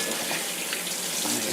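Warm water runs steadily from a sink tap in a continuous, even hiss of flowing water, close and unbroken, with no voices.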